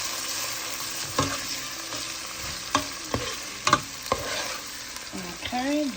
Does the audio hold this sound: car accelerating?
no